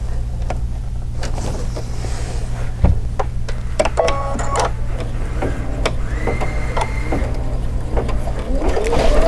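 Embroidery sewing machine stitching fabric, a steady loud mechanical hum with rapid rhythmic needle clatter and a few whirring motor shifts running continuously nearby.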